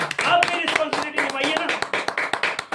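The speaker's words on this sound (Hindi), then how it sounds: "ताली तो बनता है ना।" Audience clapping in a motivational business seminar hall, starting under a speaking voice and then settling into a run of crisp, fairly regular claps near the end.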